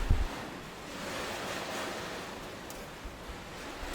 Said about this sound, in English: I don't know if you can hear it, but the rain is pretty strong right now.